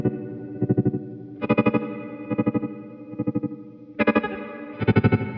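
A chorused, distorted electric guitar plays in bursts, its sustained chords pulsing with a clear tremolo that swells and speeds up as the effect ramps in.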